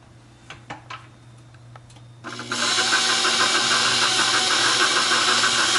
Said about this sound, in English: I typically leave my mixer running while I add the next few ingredients.